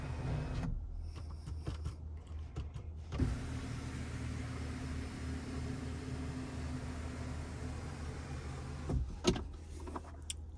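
Electric motor of the power moonroof on a 2025 Ram 1500 SST pickup, a steady whirring drone heard from inside the cab, running continuously for several seconds with faint clicks at the start and end.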